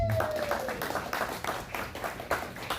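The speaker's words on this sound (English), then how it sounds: "Okay, clap for Matrix, folks" An audience at a poetry open mic at a downtown venue claps steadily for about three seconds, a dense patter of many hands in a small room.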